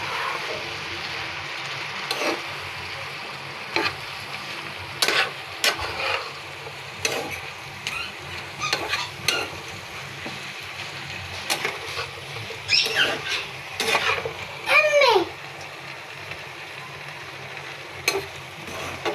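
Leafy greens sizzle in a frying pan, a soft hiss punctuated by repeated scraping and tapping of a spatula as they are stirred.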